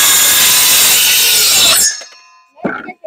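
A hand saw rasps steadily through old wooden boards salvaged from a tree fort, loud and close for a couple of seconds before stopping, followed by a few faint knocks.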